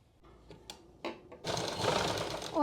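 Sewing machine stitching a side pocket onto a kurti, starting with a few faint clicks and then running into a steady loud mechanical whir that continues to the end.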